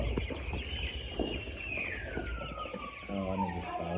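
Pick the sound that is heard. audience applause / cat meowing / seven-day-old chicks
seven-day-old chicks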